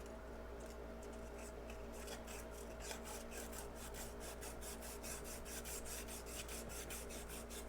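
Close, faint, rhythmic rasping as abrasive paper is rubbed back and forth to sand rust off an engine shaft from a Yamaha AT-1 motorcycle engine. The strokes run evenly and continuously with no talk.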